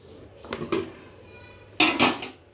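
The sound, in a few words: putting lid on cooking pot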